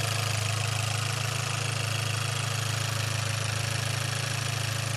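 A 2018 Chevy Malibu engine idles after vacuum pump and valve cover gasket replacement, a steady, close, even low hum with a faint rhythmic pulse and no voices.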